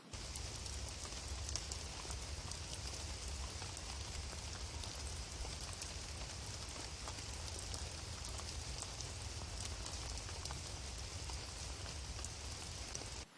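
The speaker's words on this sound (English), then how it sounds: "This is a solid summer rain." Heavy summer rain pours down in a dense, continuous hiss of drops striking surfaces, steady and even throughout with no other sounds standing out.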